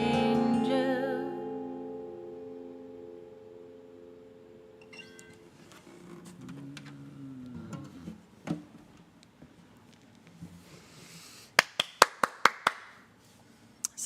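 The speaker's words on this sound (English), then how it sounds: "Sometimes you have to clap for yourself on these things." Hand clapping by a single person, a short burst of several sharp, fairly close claps near the end, after quieter taps and fading music.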